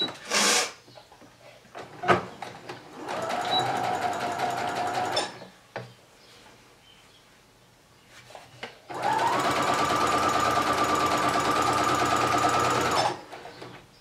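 A sewing machine stitches a fabric garland in two long bursts of rapid, whirring mechanical stitching, close and clear, separated by pauses with small handling clicks and fabric shuffling.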